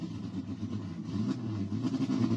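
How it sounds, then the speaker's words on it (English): Race car engines warming up at a rain-soaked racetrack the day before racing, a steady mid-low engine rumble with slight swells in revs, continuous and fairly close, no voices. "the car engine's already warming up"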